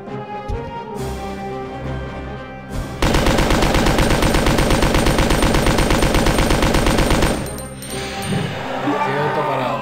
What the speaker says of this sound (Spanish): Vamos a darle chicha con la ametralladora